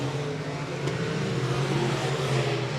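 Race cars roaring around Heart O' Texas Speedway on the final lap of the Southern Nationals, a loud continuous engine drone holding steady for a few seconds with no voices.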